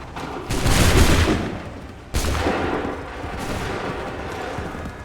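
Musket volleys in Assassin's Creed III: two loud, close volleys of massed gunfire about a second and a half apart, each a crackling burst that rolls into a long, rumbling decay.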